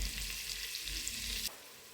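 Butter melts into hot oil in a casserole that was just used to fry chicken, giving a loud steady sizzle. The sizzle drops off sharply to a quieter hiss near the end.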